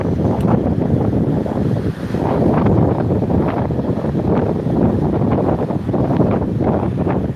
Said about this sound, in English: Just been a bit windy, but the wind isn't bad because it's a warm wind, which is nice.